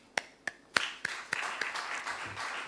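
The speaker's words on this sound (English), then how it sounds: "I think that deserves a clap." Scattered hand claps from a small audience at an economic report presentation: a few distinct, spaced claps that blur into brief, faint patter before dying away.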